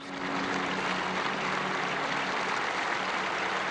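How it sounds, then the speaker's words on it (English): Vast crowd applauding across St. Peter's Square during Pope Francis's final journey to the basilica, a continuous distant wash of clapping with no breaks, heard throughout at even loudness. "Applause rose up across St. Peter's Square."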